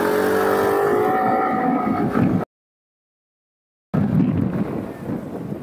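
A SYM Husky ADV 150 scooter with a stock exhaust pulls away under throttle, its steady exhaust drone blended with wind rush, then cuts to silence before the engine noise returns with wind.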